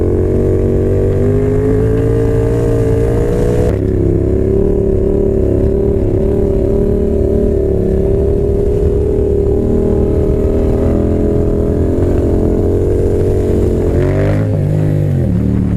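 Heard from the rider's position, a Yamaha FZ07 motorcycle engine runs loud and close, its steady drone rising and falling as the throttle is revved while riding, with wind noise behind it.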